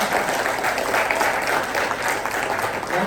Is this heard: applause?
yes